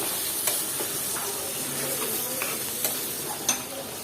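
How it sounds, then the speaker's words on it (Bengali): Spiny gourd fries with potatoes and other vegetables in a pan, giving a steady sizzling hiss broken by a few light clinks and scrapes as a utensil stirs through the mix. "আর এখন দিয়ে দিব হচ্ছে কাঁকরোল এটাকে আবার একটু নেড়ে ছেড়ে দিলাম"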